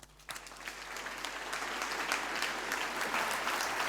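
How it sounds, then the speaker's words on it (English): Audience applause welcoming the first speaker, Gerd Leonhard, at the InnoTown 2016 conference: clapping starts abruptly after a brief quiet moment and quickly swells into steady, full applause from a large crowd that stays strong to the end. "Please give a warm round of applause to our first speaker"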